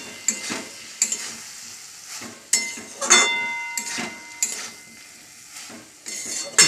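Bottle gourd curry is scraped out of a metal cooking pan. A spoon clinks and scrapes against the pan in repeated sharp, close strikes between quiet gaps, with no talking.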